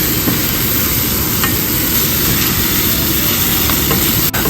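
Shrimp stir-fried with chili paste in a hot pan, a loud, continuous sizzle and crackle of frying with scraping stirs throughout, close up and alone.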